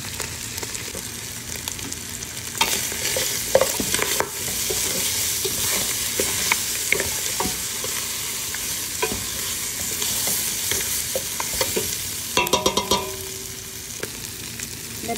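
Meat browning in a pan with cumin, cinnamon, dried coriander and flour, a constant close sizzle punctuated by scraping and clinking stirring strokes, with no talk.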